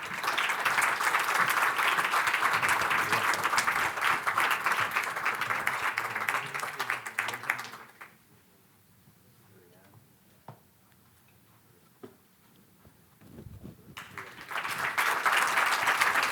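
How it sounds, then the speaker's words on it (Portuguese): Loud, sustained audience applause at the Prémios Empreendedor XXI awards ceremony in Porto fills the hall for about eight seconds, falls to a near-silent pause with a few faint clicks, then swells again into strong clapping. "Um aplauso."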